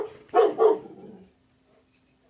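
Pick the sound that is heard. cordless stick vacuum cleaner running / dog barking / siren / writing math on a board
dog barking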